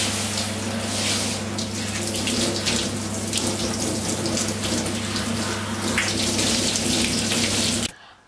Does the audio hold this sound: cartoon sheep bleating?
no